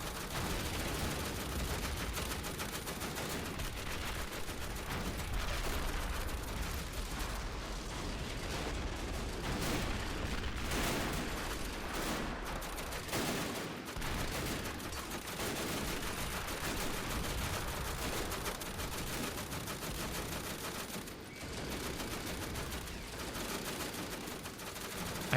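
Civil War musket volleys in a battle video game, set during a siege of Washington D.C.: dense, continuous smattering gunfire rolling on for the whole stretch, many overlapping shots near and far with no pauses.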